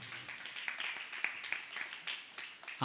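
Church congregation clapping hands in praise, a lively string of fairly quick, uneven claps from many people at moderate volume, with no talking over it.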